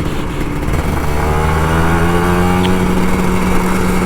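An old Kawasaki Ninja RR 150 two-stroke motorcycle idles close by while warming up, a loud steady buzzing engine note with a slight rise in pitch partway through.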